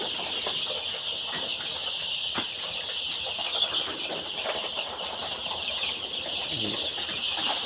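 Chickens, chicks and turkeys cluck and chirp steadily among a busy crowd at a village poultry market in Pabna, Bangladesh, with wings flapping now and then and voices murmuring in the background.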